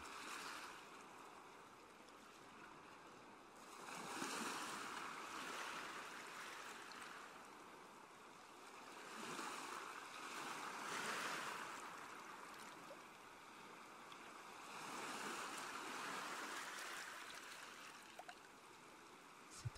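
Gentle waves wash onto a beach in slow, soft swells that rise and fade every few seconds, distant and low under a steady watery hiss, with no voices.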